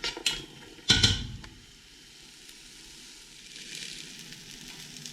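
Onion and peppers sizzling in a pan as they soften for a sweet potato chilli, with a steady close frying hiss and a brief utensil clatter near the start.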